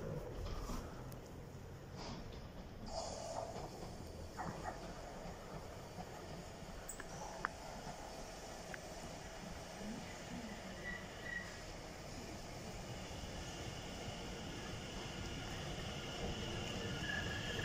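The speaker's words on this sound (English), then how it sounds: "Incoming now, guys. You've got London Overground service going to Euston." A London Overground class 710 electric train pulls into South Hampstead station, a continuous broadband rumble of wheels on rail with faint brake squeal, steady and fairly near throughout with no talking.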